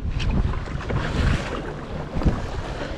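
Gusty wind buffets the microphone over a westerly sea swell, with water slapping around a fishing kayak off Melaka; low rumbling bursts rise and fall close by, with no voices.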